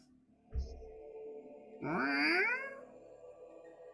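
After a soft thump, a human voice imitates a cat with a single rising, drawn-out meow, close and moderately loud over quiet background.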